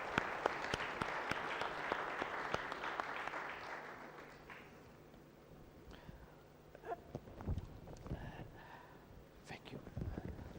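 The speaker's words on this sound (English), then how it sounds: "join me please for a warm round of applause to all our" A warm round of audience applause for the panelists at an AI summit fills the room, then thins after a few seconds, leaving scattered claps, voices and stage noise.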